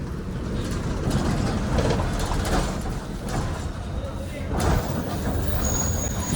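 An APSRTC Pallevelugu bus pulls into platform 2 at Pithapuram bus stand, a low engine rumble with brief hissing bursts as it slows and stops, heard from inside the bus against busy background noise.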